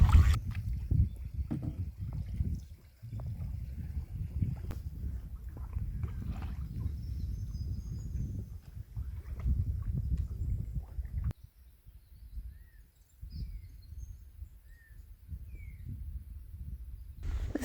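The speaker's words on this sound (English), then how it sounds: "I'm paddling. Paddling like crazy." Canoe paddling on the Glenelg River in Victoria, Australia: steady low water swishes and gurgles of paddle strokes continue close by, with a quieter stretch near the end and no talk.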